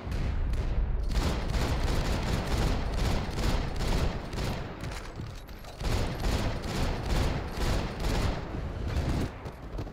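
Sustained gunfire from the video game Max Payne 3, dense bursts of rapid shots and booms filling the whole stretch, loud and continuous with brief lulls.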